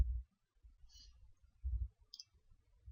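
Two crisp, quiet mouse clicks on a Google Chrome menu, the second following about a second after the first, over a low background murmur.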